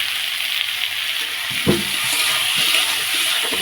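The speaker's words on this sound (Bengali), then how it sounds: "কলটা একটা খুলে গেছে বন্ধুরা" An open kitchen tap runs steadily, a continuous broadband water hiss with one brief knock partway through and no voices.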